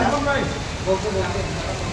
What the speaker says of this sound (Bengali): ও মাই গড, কি বৃষ্টি রে ভাই!